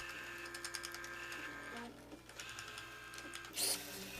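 A Turing machine's stepper motor drives a toothed belt that moves the tape, giving a faint mechanical whir and tonal hum with a short, sharper burst of motor activity near the end.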